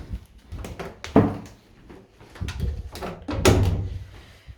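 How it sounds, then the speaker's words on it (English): A storage area door in a residential hallway is opened and closed, giving several close knocks and thuds in uneven succession, with a louder bump near the end. "The door open and close is fine"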